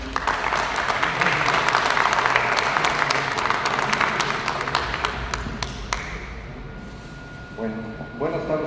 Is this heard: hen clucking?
no